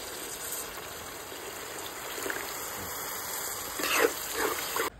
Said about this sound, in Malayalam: മീൻ നന്നായിട്ട് വെന്ത് കിട്ടുന്നതിന് വേണ്ടി നമ്മൾ 1 കപ്പ് വെള്ളം ചേർക്കുന്നുണ്ട്.